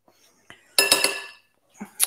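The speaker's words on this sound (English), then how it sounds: "we're going to just scrape off the spoon" A spoon scrapes Biscoff rocky road mix with melted chocolate and butter from its edge, giving a short clinking scrape followed by a couple of light metallic knocks against a bowl.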